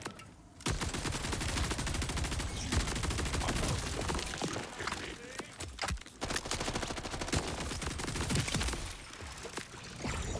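Gunfire and a grenade explosion in the video game Borderlands 4, a dense, loud barrage of rapid shots and blasts running almost continuously after a brief quiet start, with no talking over it.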